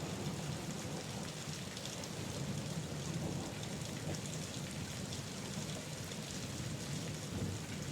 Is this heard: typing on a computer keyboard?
no